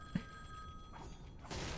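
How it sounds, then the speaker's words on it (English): A telephone rings in the video game Fortnite, a steady electronic tone ringing over quiet background noise, then fading into a soft rush of sound. "The phone's ringing."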